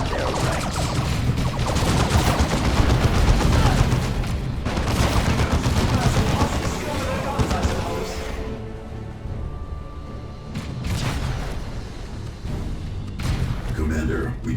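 Grenades and gunfire in the video game Dawn of War II sound as dense, continuous rattling shots and booms. The battle noise stays loud, eases slightly midway and is mixed with game voices.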